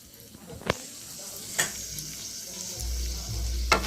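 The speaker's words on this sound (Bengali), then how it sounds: "একটু ভাজবো।" Cardamom and cloves frying in a pan with cinnamon for golap polao, a low sizzle punctuated by a few sharp spatula clicks, with no talking.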